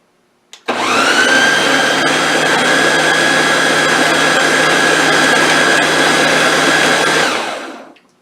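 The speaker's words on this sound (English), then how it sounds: "we're going to hit the mix button" An electric stand mixer starts with a click and runs at a steady, loud whine for about seven seconds while mixing cranberry walnut cake batter, then winds down, with no talking.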